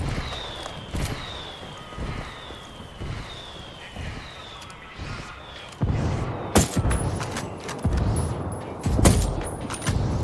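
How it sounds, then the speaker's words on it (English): Indirect fire barrage in Ghost Recon Wildlands: a run of whistling incoming rounds with muffled thuds, then a heavier, louder stretch of dense explosive impacts and crackling blasts. "I'm calling for indirect fire."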